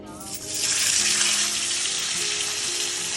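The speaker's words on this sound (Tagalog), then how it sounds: "tayo po ay magpiprito na" Tulingan fish frying in a pan, a loud steady hissing sizzle that swells after a moment and holds throughout, close up, with a voice faintly under it.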